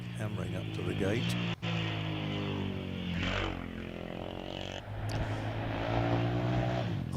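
A vintage sports car at a Wiscombe Park hillclimb, its engine roaring hard and climbing in pitch as it accelerates uphill, loud and sustained, with a commentator talking over it throughout.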